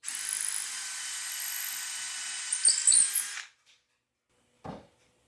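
A steady high-pitched power drill whines for about three seconds while drilling a hole for cabinet hardware with a Kreg jig, then cuts out, followed by a few faint knocks and one brief thud.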